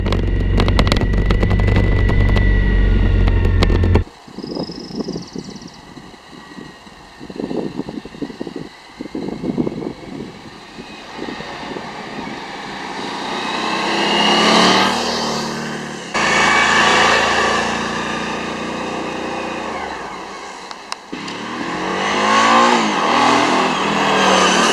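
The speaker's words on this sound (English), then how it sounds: "some drive-bys of the bike, so you can get an appreciation for the size of it and the sound of it as it's driving by" A Suzuki V-Strom DL1000 motorcycle rides past outdoors in several passes, its engine note swelling loud as it nears and fading away between passes, with revving and wind noise throughout.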